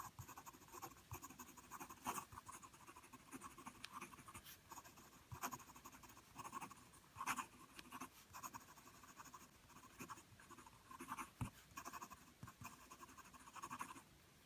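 Omas 360 fountain pen writing quickly across a Rhodia paper pad, a soft continuous scratchy glide broken into short rhythmic strokes and pauses, close and quiet.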